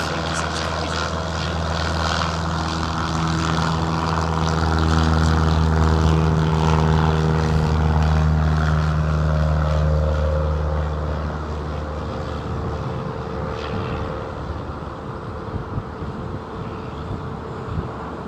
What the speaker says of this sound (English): It's an old Airbus, isn't it?